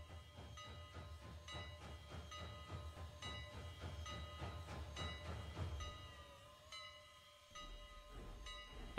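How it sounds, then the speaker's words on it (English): A train couples up to its passenger coaches, giving a faint, distant run of rhythmic clanks and rumbles with a steady hiss. It ends in quieter tonal hums and a sharp bang. "The train couples up to the coaches at exactly 6:30,"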